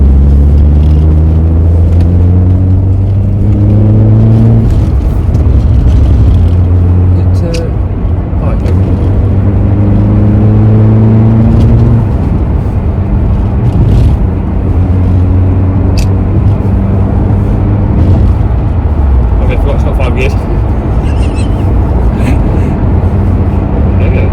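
An Alfa Romeo 145 Cloverleaf engine hums and rumbles steadily from inside the car, its pitch rising and falling through gear changes while people talk over it.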